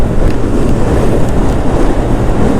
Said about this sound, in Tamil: காற்றும் பயங்கரமாக அடிக்குதுங்க.